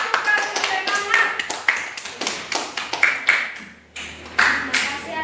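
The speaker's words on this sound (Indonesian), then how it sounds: "Iya, tepuk tangan dulu untuk kelompok 1." A classroom group claps for group 1, a brisk series of sharp, uneven hand claps filling the room with a brief pause partway through.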